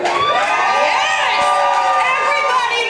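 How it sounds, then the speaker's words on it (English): Audience at a holiday bazaar stage show cheering and whooping loudly, a dense crowd roar with overlapping shouts and voices throughout the short burst. "Can I get a round of applause for masturbation?"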